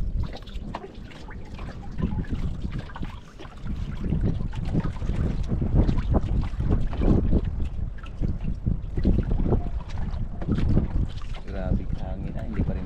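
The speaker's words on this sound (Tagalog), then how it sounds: "Grabe hangin ah, hindi pa rin nagbabago, Joy." Strong wind roaring steadily over a boat at sea, constant gusty buffeting of the microphone with water sounds underneath, loud and unbroken, with people talking through it.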